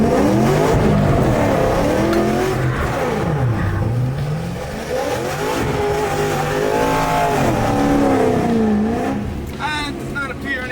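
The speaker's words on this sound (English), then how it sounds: "One more burnout for good measure" Cammed, straight-piped police car doing a burnout, loud raw exhaust revving up and down in waves with tire squeal, close and continuous, a voice talking over it.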